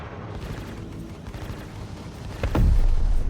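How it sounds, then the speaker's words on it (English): Size 5 laser cannons on a Corsair ship in Star Citizen fire a steady hail of rapid shots, building to a louder, heavier burst of blasts near the end. "I sped things along with a hail of Daka from the Corsair's size 5 laser cannons."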